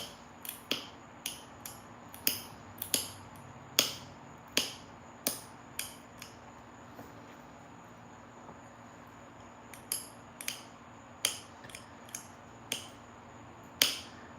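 Sharp, separate clicks and ticks of flint knapping as a tiny bevel is pressed onto a thin stone arrowhead, about twenty crisp taps at an uneven pace, close up against a faint steady hum, with no talking.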